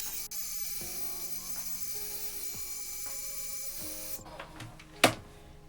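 A hair dryer blows with a steady, hissing whoosh for several seconds, then shuts off, followed by a few soft clicks and a knock.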